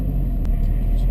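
A Subaru BRZ being driven gives a steady, loud low engine and road rumble from inside the car. A single sharp click cuts through it partway in.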